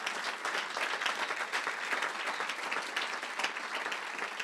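A church congregation applauds during a Sunday service, sustained dense clapping filling the room steadily and loudly throughout, without pause.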